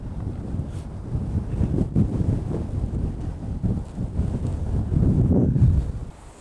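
Strong, continuous wind buffeting a microphone on a cold winter lakeshore of Lake Michigan, low rumbling gusts swelling and easing throughout, no voices.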